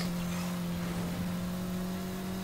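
Racing-car engine in Need for Speed Heat drones at a steady, loud pitch with a constant roar, heard alone with no voice.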